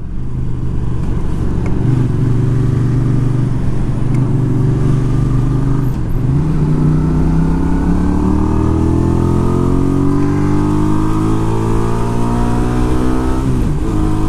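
A small-engined touring motorcycle cruising at highway speed around 65 mph, its steady engine drone and wind roar sustained throughout with gently rising and falling pitch, loud and close with no talking.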